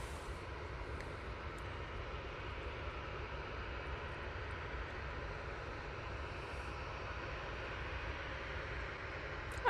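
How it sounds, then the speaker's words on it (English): Steady jet engine roar of an EasyJet airliner on approach into Manchester Airport from Belfast, a continuous distant rumble holding level throughout with no voices. "will be the EasyJet coming in from Belfast"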